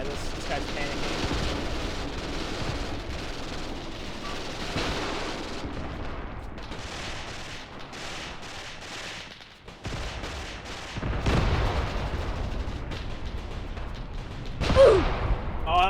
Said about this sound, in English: Oh, that was a rifle grenade.